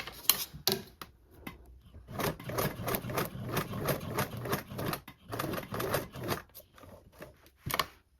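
A sewing machine runs a straight stitch across a fabric panel for a toiletry bag, a rapid mechanical chatter in several bursts of stitching separated by brief pauses.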